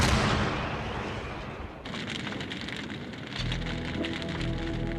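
A 400 mm railway gun bombards Sevastopol during the 1942 wartime siege, a dense, continuous roar of heavy artillery fire that swells louder in the final seconds, with no voices.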